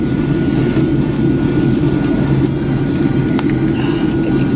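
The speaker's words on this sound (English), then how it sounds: "now we're going in for the landing" Airplane landing, a loud steady roar of engine and cabin noise heard from inside, with a low rumble holding constant throughout and no talking.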